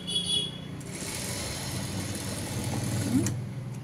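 A sewing machine stitching a fabric joint runs as a steady close mechanical whir with a faint rattle, continuous throughout with no pauses or voices.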